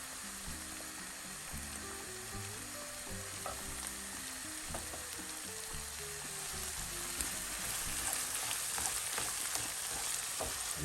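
Tomato paste salsa for Egyptian shakshuka frying in a pan: a continuous even sizzle with soft stirring scrapes, and a low melodic tune running faintly underneath.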